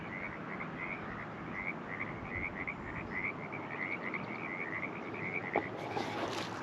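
Frogs croak outdoors at a wine country venue in Paso Robles, a continuous chorus of rhythmic trilling calls at moderate distance over a steady noisy background.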